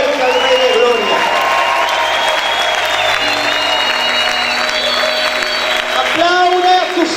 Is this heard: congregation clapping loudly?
yes